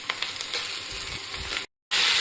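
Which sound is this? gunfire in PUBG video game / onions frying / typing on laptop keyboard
onions frying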